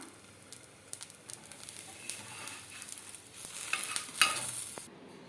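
An oats dosa cooks on a pan with a faint, crackling sizzle, scattered pops and small stirring or scraping sounds that grow a little busier before cutting off.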